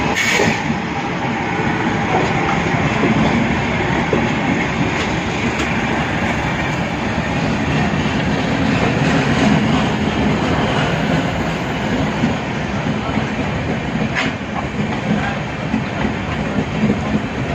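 A Garib Rath Express passenger train runs non-stop, its steady loud rumble and rail noise filling the carriage without pause, with faint rhythmic wheel clatter throughout and no voices.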